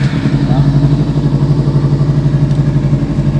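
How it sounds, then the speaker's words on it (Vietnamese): Kawasaki Ninja 300 motorcycle idling, its exhaust giving a steady, loud, rhythmic low throb close by with no break for the whole stretch; a voice speaks faintly over it. "Rồi anh em nghe tiếng bô."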